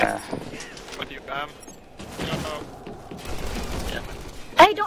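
Rapid gunfire bursts from a video game match on the Rig map, sharp and fairly close, clustered in short volleys with a loud crack near the end, mixed with a talking voice.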